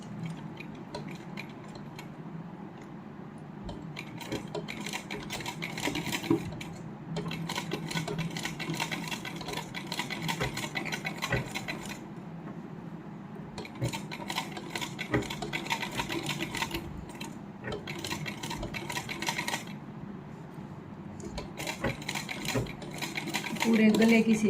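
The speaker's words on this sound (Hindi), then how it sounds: "यहाँ से सिलाई लगा लेंगे।" A sewing machine runs in steady bursts of stitching as it attaches the inner lining along the neckline of a heavily hand-embroidered suit, with brief pauses between runs and a voice talking over it.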